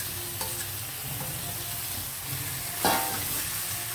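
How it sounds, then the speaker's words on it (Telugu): Chicken frying in a pan with browned onions, a continuous close sizzle with light stirring scrapes and a brief louder clatter near the end, no voices. "మంట సిమ్లో పెట్టేసి చికెన్ వేసేద్దాం చక్కగా వేగిపోయి కదా ఉల్లిపాయలు"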